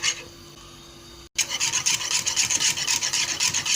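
Spoon scraping and stirring a thickening pudding-like mixture in a pot on the stove, a steady rhythmic rasping that briefly stops, then returns louder and continues without voices.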